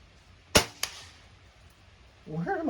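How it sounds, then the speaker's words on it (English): A CFX air rifle fires once with a sharp crack, followed by a fainter impact a moment later; a voice starts talking just after. "The gun's fun to do this with, though. It's easy to shoot."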